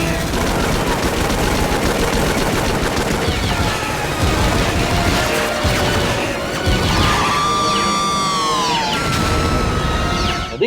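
Rail guns fire in a film scene, a dense barrage of heavy crashing blasts and booms with a rising whine near the end, loud and continuous.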